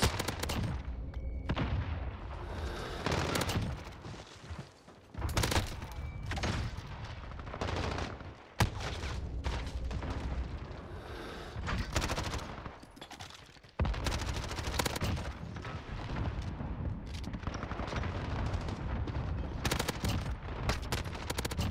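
Rapid gunfire from an MP5 submachine gun fills a Call of Duty: Modern Warfare multiplayer match, with long loud bursts broken by brief pauses across twenty seconds.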